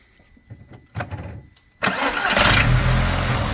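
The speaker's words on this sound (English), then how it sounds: "Started. First turn of the key." Audi TT turning over and catching on the first turn of the key after repair: brief clicks and cranking, then the engine bursts to life and settles into a loud, steady idle.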